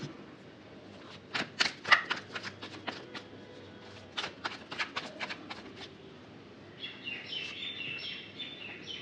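Tarot cards are shuffled close up in quick riffles and taps for several seconds, then the handling quiets while birds chirp faintly in the background.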